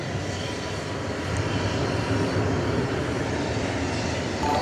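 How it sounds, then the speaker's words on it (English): A Boeing 777-300ER airliner bound for London Heathrow roars steadily at an airport, a broad, continuous engine rumble that swells slightly and holds at a moderate distance. "777-300ER. It's going to London, Heathrow."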